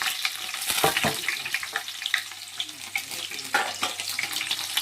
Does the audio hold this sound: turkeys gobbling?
no